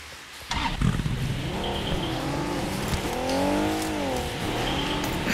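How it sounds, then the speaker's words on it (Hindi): A vehicle in the BGMI battle royale video game drives past, its engine note sweeping up and down in pitch as it revs and passes at moderate distance, with no talk over it. "एक गाड़ी जा रही उधर"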